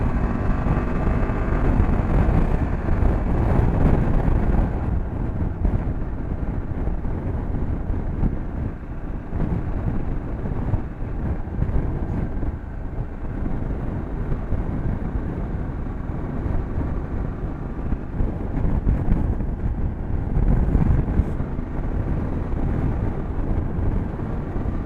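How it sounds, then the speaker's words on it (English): Wind buffeting a microphone outdoors beside a BMW F800GS motorbike, a constant low rumbling roar with gusty swells that stays loud throughout, no voices. "A bit windy, so I don't know if it's gonna be loud right now"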